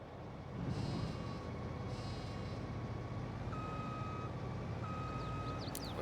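Farming vehicle reversing onto a trailer in Farming Simulator 22: a steady engine drone with a repeating backup beep tone, loud and close throughout.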